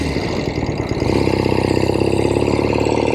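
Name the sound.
1970 Royal Enfield Interceptor 750 Mk II motorcycle engine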